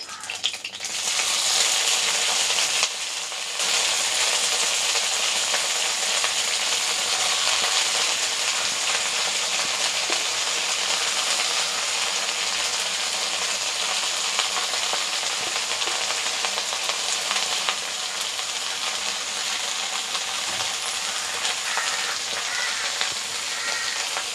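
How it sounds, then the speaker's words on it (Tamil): Mint and coriander leaves sizzle steadily in a hot pan, a dense, loud, continuous frying hiss with occasional faint stirring, close up and with no talking. "நல்லா வதக்கிக்கோங்க"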